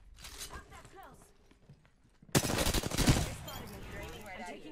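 Gunfire in the video game Apex Legends starts suddenly as a dense, rapid volley of close automatic shots, following a quieter stretch with voices talking.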